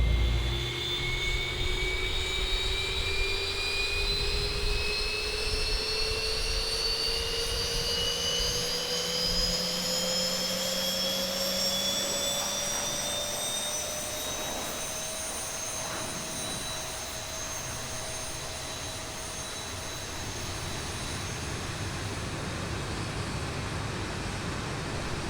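Boeing 737 jet engine spooling up during start in the X-Plane 11 flight simulator, a steady loud whine with rising high-pitched tones climbing over about twenty-five seconds, no talking.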